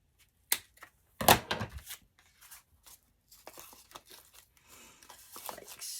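Paper being cut down to size for an altered file folder journal, with a sharp crisp snip near the start followed by softer rustling and crinkling of the sheet, close and fairly quiet, no talking.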